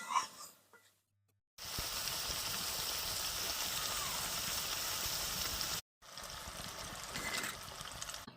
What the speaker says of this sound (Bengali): এই দেখুন লেড়ে চেড়ে দিচ্ছে, লেড়ে চেড়ে দিলে পরে ভালোভাবে ঘিটা বেরিয়ে যাবে।